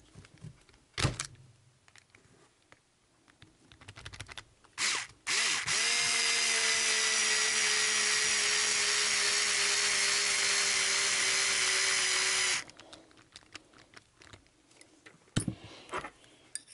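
A power driver runs screws into parts of a TLR 8ight-E 3.0 RC buggy kit, with one steady whirring burst of about seven seconds, stopped short of full tightness. Brief clicks and handling noises come before and after it.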